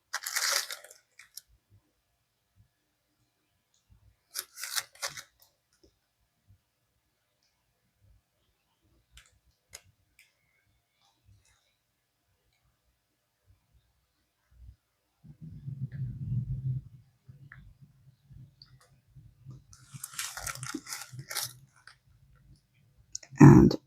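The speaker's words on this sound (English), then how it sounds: "this is the ASMR portion of the video where you're watching me just put some wax on these eggs" Blue wax going onto pysanky eggs with a wax tool, heard as sparse small clicks and crunchy scratches in quiet bursts near the start and end, with a low rumbling stretch in between.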